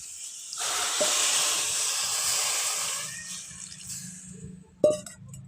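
Water poured into a hot wok of potatoes and pointed gourd with turmeric and salt hisses and steams loudly for several seconds, then fades, ending with a sharp clank of the pan.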